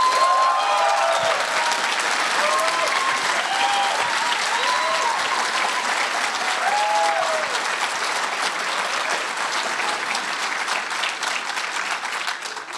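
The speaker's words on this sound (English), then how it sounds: "can we have applause for Merrin's flip-flop operator?" Sustained audience applause at a lightning talks session, dense and even throughout, with a few scattered whoops and cheers rising above the clapping.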